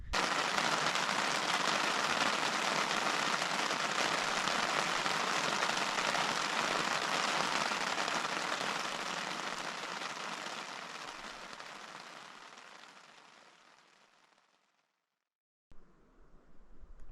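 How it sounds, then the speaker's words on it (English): Steady, dense rain patters on and around a truck bed camp, a loud unbroken hiss that gradually fades toward the end, cuts to near silence, then resumes briefly. "let the rain do its thing"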